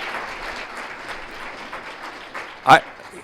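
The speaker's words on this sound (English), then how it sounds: "Let's give him a big round of applause." A round of applause from a conference audience at a franchise technology event, steady moderate clapping under faint talk, with one louder sharp clap near the end.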